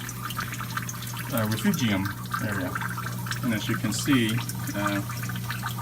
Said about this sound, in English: That's where that little water trickling from the pipe